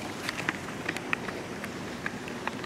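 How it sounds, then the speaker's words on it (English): Heavy rain falls steadily in Chattanooga, Tennessee, a dense hiss dotted with sharp droplet taps, loud and continuous with no voices. "Right now, it's like really raining."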